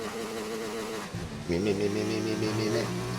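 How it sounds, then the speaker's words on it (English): Simulated race car engine in a Formula 1 racing video game with a sound glitch, a buzzing harmonic drone that drops out briefly then returns in altered, stuttering tones, with commentary talk over it. "he's got the engine noise glitch by the sound of it"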